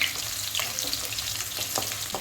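Steady sizzling of eggplant frying in a pan, a bright crackling hiss with occasional small pops, fairly quiet and without talk.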